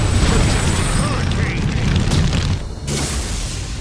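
Fiery jutsu blast in Naruto Shippuden Ultimate Ninja Storm 4, a loud roaring boom and rushing burst that swells and then cuts off sharply near the end.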